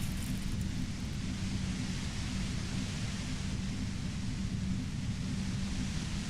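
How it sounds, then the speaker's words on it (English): A compressor in the video game Disco Elysium gives off loud, steady white noise, a constant broadband roar with a heavy low rumble that runs unchanged throughout. "The violent white noise becomes even more overwhelming closer to the compressor."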